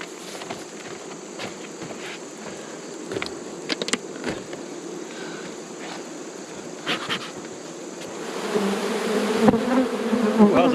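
Honeybees buzz around nuc hives being unloaded from a Kubota, a steady swarm drone with occasional close individual passes and light handling noise, growing denser and louder toward the end.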